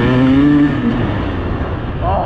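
A KTM 200 EXC dirt bike is ridden off-road, its engine droning and shifting pitch as the throttle changes, loud and close under wind noise.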